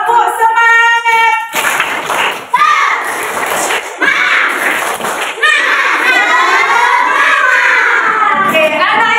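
Children in a classroom performing a rhythmic tepuk semangat clapping chant, with sharp patterned claps mixed with loud shouted and sung voices, close and energetic after a brief adult voice at the start.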